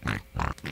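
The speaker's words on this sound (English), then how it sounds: "Secret pig language." A cartoon pig from Peppa Pig oinks three times in quick succession, loud, close and nasal, with short breaks between each grunt.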